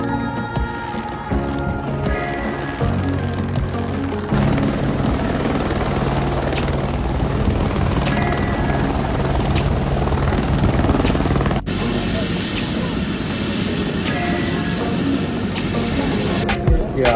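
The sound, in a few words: helicopter landing at airport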